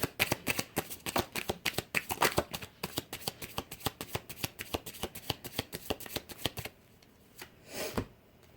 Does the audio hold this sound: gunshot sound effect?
no